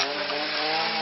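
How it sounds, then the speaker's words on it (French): A chainsaw runs at steady high revs, loud and close and without a break, while volunteers clear invading trees from a cliff face. "Jean-Claude, tu peux pour la tronçonneuse?"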